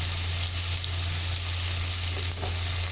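Chopped onions, curry leaves and green chillies sizzle steadily in hot oil in a pan, a loud continuous frying hiss with occasional stirring and no talk.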